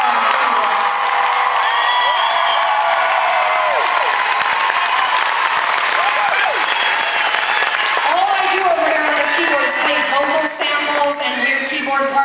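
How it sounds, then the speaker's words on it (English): A concert hall audience applauding and cheering at a show, sustained loud clapping with whoops and shrill shouts throughout, and voices rising over the crowd noise. "massive round of applause to"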